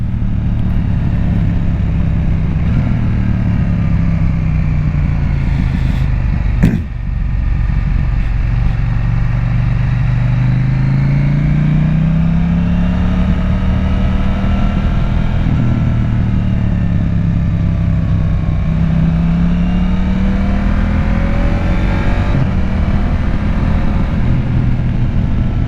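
A 2024 KTM 890 SMT motorcycle engine runs steadily while riding at night, a continuous loud drone with slow rises and falls in pitch as the rider rolls on and off the throttle, one brief sharp knock partway through.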